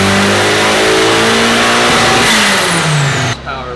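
Tuned car engine on a dyno during a power pull, loud and close, its revs climbing steadily toward about 7,000 RPM before cutting off abruptly near the end.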